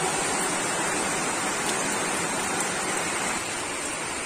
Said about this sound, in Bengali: দেখো প্রচন্ড জোরে বৃষ্টি চলে এসছে